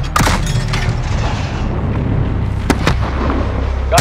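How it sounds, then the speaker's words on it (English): Illumination flares launch during a night firefight at a besieged US embassy in Modern Warfare 2019, sharp booming pops that cut through a loud, constant roar of battle. "Launch a flare. We'll pick them off in the light."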